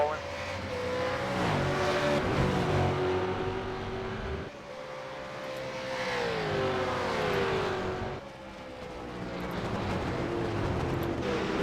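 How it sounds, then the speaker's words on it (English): Supercars racing at the Phillip Island circuit, engines revving loud and continuous with rising and falling pitch as the cars accelerate and shift, a dense roar throughout. "The supercars, they're rolling now as well."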